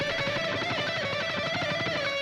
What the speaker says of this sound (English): So picking sounds like this, using the plectrum